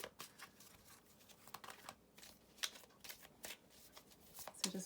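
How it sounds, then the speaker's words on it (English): Tarot cards are shuffled by hand close up, giving quiet, irregular riffling and flicking bursts of papery slaps and rustles with no talking. "As I shuffle."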